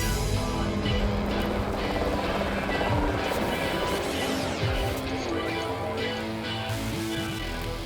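A toy robot helicopter whirs steadily and loudly at close range in a studio during a Game Developers Conference wrap-up show, its rotor drone continuous with a few knocks and shifts in pitch.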